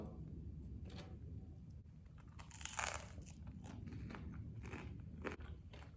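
Crisp crunching bites into crusty bread, a few crackly bursts standing out over steady low background noise, close and fairly loud.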